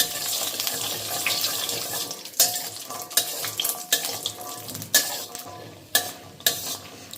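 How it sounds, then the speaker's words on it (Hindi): Cashews fry in hot ghee in a pan on a low flame, a soft continuous sizzle broken by clattering spoon stirs and scrapes, close and moderately loud, with no talk. "हो गए हैं काजू फ्राई।"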